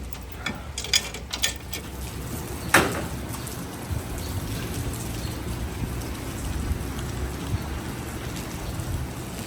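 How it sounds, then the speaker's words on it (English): Heavy pouring rain falls steadily on a flooded property, a dense continuous wash of drops with a few sharper close splashes or taps early on and no talking. "Hard to take videos when it's pouring rain all day"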